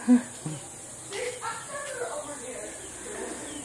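A chicken clucks and calls faintly amid people talking nearby, with low outdoor background noise throughout.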